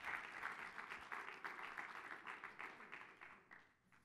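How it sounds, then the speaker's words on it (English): An audience breaks into applause for a guest called up to the stage, a dense, even patter of many hands that carries on for a few seconds and then tapers off. "Round of applause."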